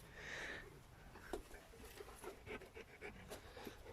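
A dog pants in rapid, steady breaths at close range, with a few soft bumps and shuffles around it in a quiet farm setting.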